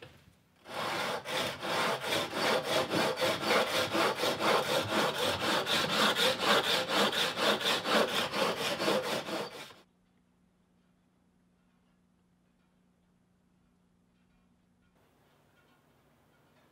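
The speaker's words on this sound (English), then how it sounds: "I have the primary bevel ground or sanded on this using the jig" A hand plane blade clamped in a honing jig is sanded on its bevel with steady, rhythmic back-and-forth rasping strokes for about nine seconds, then the room falls quiet.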